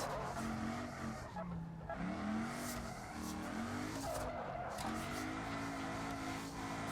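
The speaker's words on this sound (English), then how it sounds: "Now you see how you can drift in this game" A V8 car engine in the video game BeamNG roars steadily with pitch swings as it drifts, tires squealing and screeching under the revving, loud and close throughout.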